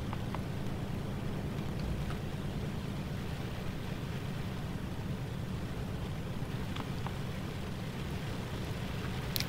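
Mod-altered rain in the Train Sim World 3 railway game on the Ruhr-Sieg line, a loud, even, continuous hiss and patter of falling rain that steadies throughout with no talk.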